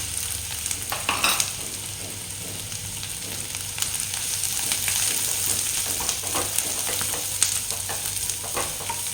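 Chopped vegetables with finely cut green chillies stir-fry on a high flame for paneer momo filling, a continuous soft sizzle with scattered scraping and stirring clicks from the pan, fairly close and with no talk.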